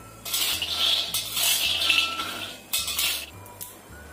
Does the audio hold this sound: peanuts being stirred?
yes